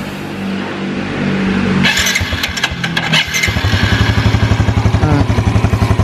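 A used motorcycle engine, recently worked on around a leaking oil seal, starts up with a short burst and then settles into a steady, close, loud idle with an even pulsing rhythm.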